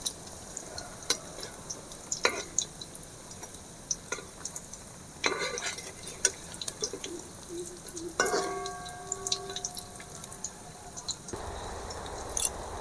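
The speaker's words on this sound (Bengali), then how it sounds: "এই মুইঠাগুলো মিডিয়াম জালে ভাজতে হবে" Katla fish muitha (fish balls) fry in oil over medium heat, a quiet sizzle broken by scattered clicks of a utensil against the pan, with the hiss growing louder near the end.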